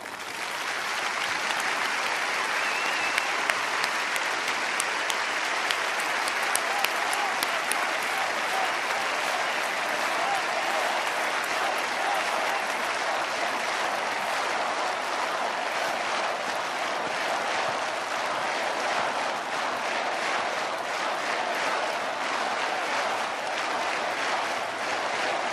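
A large crowd at an outdoor rally for political prisoners breaks into loud, sustained applause, a dense roar of clapping with scattered louder claps and cheers running unbroken for over twenty seconds.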